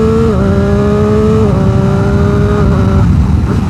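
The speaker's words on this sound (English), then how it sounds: "if I'm in second gear and I just stay on the throttle and quick shift" A motorcycle pulls hard in second gear under steady throttle and makes clutchless quick-shift upshifts. The loud, close engine note climbs, drops in pitch at each shift, then climbs again, with two clear steps a second or so apart.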